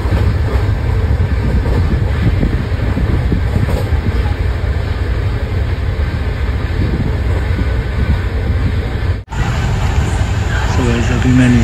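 Steady rumble and rattle inside a moving passenger train heading for Mathura station in India, a constant loud wash of carriage noise that drops out briefly near the end.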